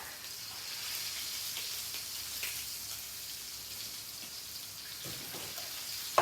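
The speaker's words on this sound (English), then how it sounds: "once we finished frying off all the chicken" Chicken and onion frying in a pan for a Beirut-style dish, giving a steady close sizzle with faint crackles and a few small pops, heard alone without talk.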